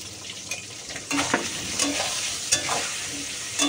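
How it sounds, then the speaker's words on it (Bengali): Pointed gourd (potol) frying in a pan, with steady close sizzling broken by several sharp spatula scrapes and stirs. No voices. "পটল ভাজা আমি বসিয়ে দিয়েছি"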